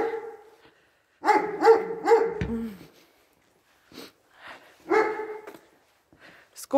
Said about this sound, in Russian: Сигучи, это хорошая собачка, она не кусается